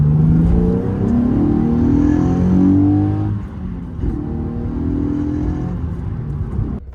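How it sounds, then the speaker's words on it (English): A Nissan 370Z engine revs up in a smooth rev-matched downshift, the tone rising steadily from inside the cabin, then dips and settles into a lower, steady drone. "I'm just gonna rev match to 4, and it's so smooth"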